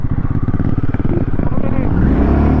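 A motorcycle fires back up in the cold on a high mountain road after stalling repeatedly. The engine catches with an uneven, close, loud putter that settles into a steadier idle.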